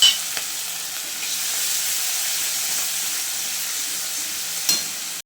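Ginger paste and a whole chopped tomato fry in a pan for egg curry, producing a loud, continuous hissing sizzle up close, with a couple of sharp spoon taps at the start and near the end.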